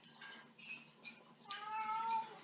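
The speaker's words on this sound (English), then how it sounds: "A cat? No. No." A cat meows close by in a kitchen, with several drawn-out, wavering cries in a row, the last one rising louder and longer, and no other sound competing.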